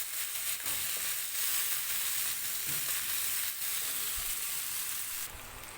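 Chana dal and minced keema frying in a pan, a steady low sizzle and hiss running throughout with a few faint stirring scrapes, close and moderately quiet, no voices.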